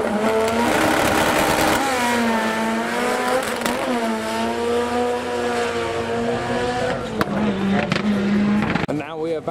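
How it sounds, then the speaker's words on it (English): Two Mark I Escorts do burnouts at a modified car show, revving hard with screaming, wavering engine tones and squealing tires, loud and close, with crowd noise and talking underneath. "Two Mark I Escorts doing burnouts."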